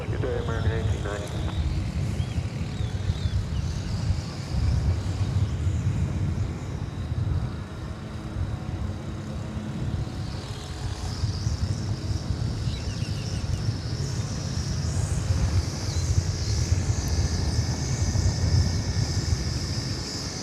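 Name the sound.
American Airlines Boeing 737-800 airliner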